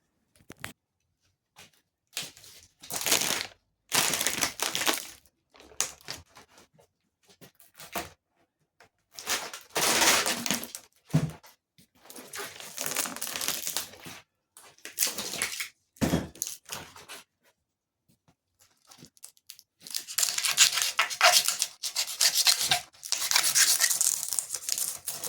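Scissors trimming excess fiberglass cloth from a boat's centre board: intermittent snipping and crinkling in short bursts separated by quiet gaps, with a longer stretch of denser cutting and rustling toward the end.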